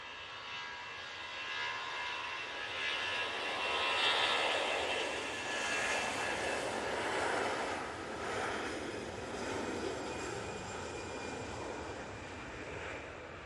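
An EasyJet airliner takes off at Manchester Airport, its jet engines giving a loud, sustained broadband roar that swells and holds steady for the whole stretch, heard alone without talk.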